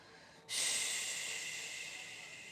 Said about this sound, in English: Inhale through the nose, exhale it out through the mouth